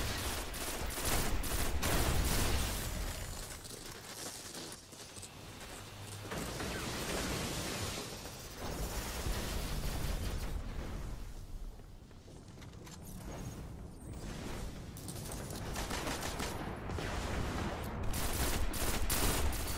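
Sustained video game gunfire fills a firefight in an online shooter, with dense rapid bursts and heavy continuous shooting throughout, loud and unbroken by talk.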